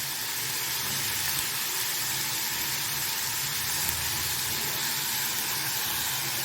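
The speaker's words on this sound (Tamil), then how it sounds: "இப்போது இது எல்லாத்தையும் நல்லா வதக்கி விடுங்க" Curry leaves and coriander stems sauté in hot oil for Bengal gram dal chutney, a constant, close sizzling hiss without pause or speech.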